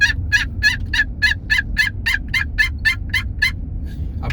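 Rapid series of about fourteen bright gobbles from wild turkeys beside a truck, evenly spaced and fairly close, over a low engine-like rumble, with a brief extra call at the end.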